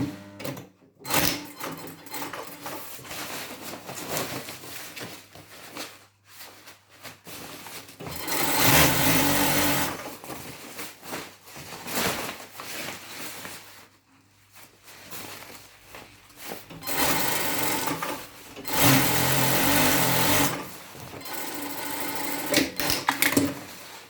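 A sewing machine joins the seams of a volunteer coverall, running in several separate bursts of stitching with quieter handling and fabric rustling in the pauses.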